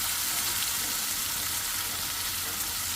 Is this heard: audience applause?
no